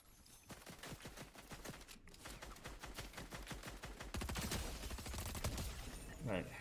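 Rapid bursts of gunfire in the Fortnite video game, a dense stream of closely spaced shots that grows louder and more intense in the second half, with a brief gap near the start.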